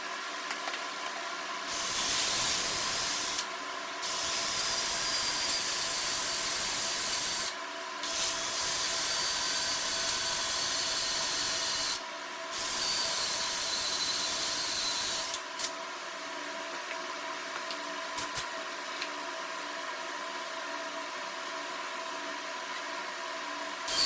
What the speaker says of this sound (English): I'm gonna move on to using a wire wheel to clean these out prior to installing the bushings there as well